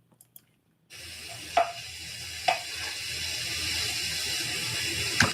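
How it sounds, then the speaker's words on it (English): Food sizzles steadily in a hot pan, a dense continuous hiss after a short quiet start, with a few sharp clicks and spits rising above it. "we're going to bring in this one because it's a different sounding sizzle"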